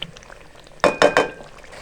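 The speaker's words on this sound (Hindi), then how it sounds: "इधर मसाला हमारा भुन रहा है, ये देखिए" Masala with yogurt bubbles and sputters as it fries in a pot, with three quick, loud bursts of sizzling close by after a quiet start.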